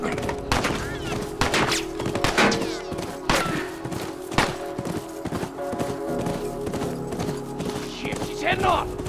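Rapid hoofbeats of a galloping horse in The Last of Us Remastered, mixed with bursts of gunfire and loud clatter, busy and close throughout.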